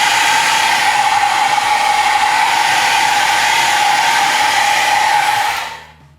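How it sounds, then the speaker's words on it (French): Hair dryer blowing dust off a painted P-47D Thunderbolt model airplane, a steady loud close-up whoosh that runs for several seconds and then cuts off as it is switched off. "soit moi je prends j'ai un sèche-cheveux."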